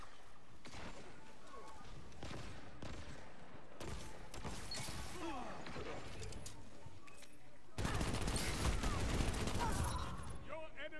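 Dense gunfire from Destiny 2 during a multiplayer point-capture match crackles in rapid, overlapping bursts. It stays loud throughout and grows heavier near the end, with faint voices underneath.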